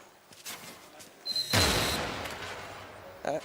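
Turret gunfire in the video game Deus Ex: Mankind Divided, a sharp burst followed by a booming blast that decays over about a second, then a short rattling shot; no talking.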